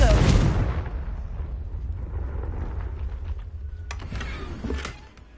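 A Confringo fire spell in Hogwarts Legacy bursts with a loud explosive boom at the start, then a long rumbling decay, followed by a few faint sharp crackles and thumps near the end.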